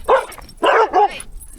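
Dogs barking at a kennel-like enclosure: three sharp, close, loud barks in quick succession, one short and two longer, with no talking.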